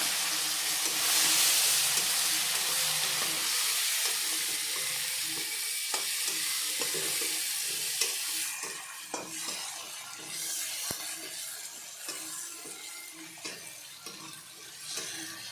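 Chopped tomato frying in a pan with coconut and turmeric, a steady loud sizzle with repeated spoon scrapes and taps against the pan, the hiss easing slightly after the first half while stirring continues.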